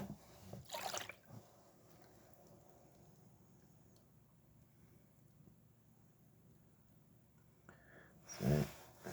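Water sloshing as gold-bearing fines are washed in a pan, two brief splashing bursts near the start and end with quiet settling between, close and moderately loud.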